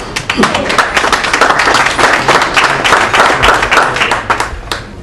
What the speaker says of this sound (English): I'd like a round of applause for Kathy and everything that she does.